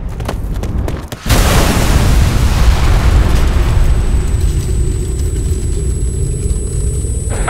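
A loud bomb blast in the Ghost Recon: Future Soldier game bursts in after a second of quiet, then a long roaring rumble and debris wash fade slowly, leaving a steady high ringing tone.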